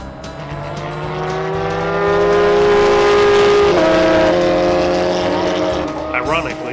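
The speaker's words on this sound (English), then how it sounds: "the air was filled with the roar of engines, as the regular track cars were doing their laps throughout the weekend" Race track cars roar past during weekend laps, a loud, sustained engine drone that swells and shifts pitch as they pass, with a voice speaking faintly over it.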